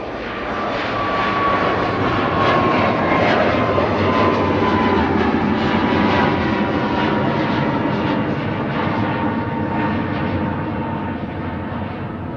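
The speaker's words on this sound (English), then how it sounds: "Ryanair 1249 to Tenerife South next, Max 8 200 on the roll" Ryanair Boeing 737 Max 8-200 jet on its takeoff roll at Manchester Airport, bound for Tenerife South: a loud, steady engine roar that holds for the whole stretch, with a thin whine gliding across it and no voices.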